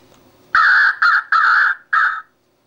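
A Cass Creek electronic caller plays four loud crow caws in a row, harsh and close, with short gaps, then silence.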